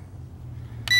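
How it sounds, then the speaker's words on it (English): A toy quadcopter gives a short electronic beep right after its batteries go in, a single clear tone arriving at the very end after near silence. "did it beep straight away there with the batteries in"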